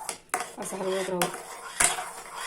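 A spoon scrapes and knocks against a pan while mango semolina halwa is stirred, with several sharp metallic clinks and a soft voice murmuring underneath.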